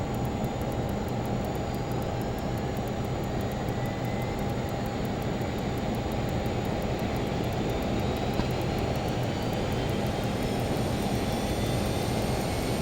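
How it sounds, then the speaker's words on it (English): A Learjet 35A engine starting up in a flight simulator game roars steadily with a high whine layered on top, loud and continuous throughout, with no voices. "Start up engine number 2."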